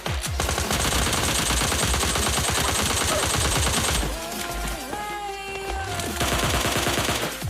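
Dense automatic gunfire in a shooter video game rattles loudly and continuously, fast rapid-fire bursts up close, easing briefly into a softer, quieter stretch before the shooting resumes.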